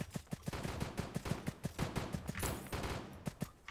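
A snowball launcher in the Roblox Flag Wars video game fires a rapid, rhythmic stream of punchy shots, fairly quiet and continuous for a few seconds.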